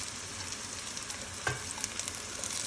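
Green chillies frying in oil with onions for prawn biryani, giving a steady, fairly quiet sizzle with a brief clink or stir in the middle.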